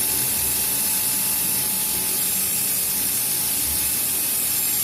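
Steady, gritty scraping hiss of sandpaper smoothing a repaired broken denture, continuous and close, with no voices.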